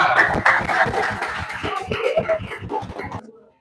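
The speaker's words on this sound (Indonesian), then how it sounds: "beri tepuk tangan untuk kita semuanya" A classroom of students in Indonesia claps together at the close of a lesson. Sharp, uneven claps crowd the first three seconds, mixed with giggles and a bit of talk, then they thin out and stop abruptly.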